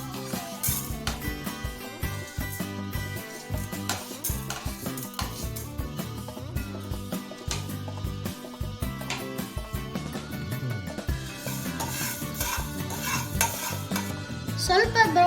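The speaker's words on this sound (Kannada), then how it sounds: "ಫಸ್ಟು ಜೀರಿಗೆ ಮತ್ತು ಮೆಂತ್ಯನ ಫ್ರೈ ಮಾಡ್ಕೊಳ್ಳೋಣ." Cumin and fenugreek seeds frying in a pan, with constant scraping, stirring and clinking of a utensil against the metal over a soft sizzle, close and continuous; no talking.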